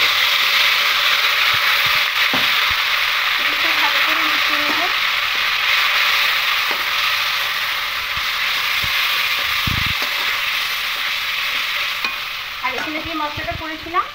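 Spice paste of tomato, ginger, green chilli and curd being stirred into a pan for a potato and soya chunk curry, with a steady sizzle of frying and scraping spatula strokes running throughout, no talking.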